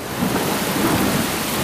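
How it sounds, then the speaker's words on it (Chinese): Heavy rain with thunder in an animated cartoon scene: a dense, steady roar of downpour with a low rumble of thunder running through it, loud and continuous. "下大雨"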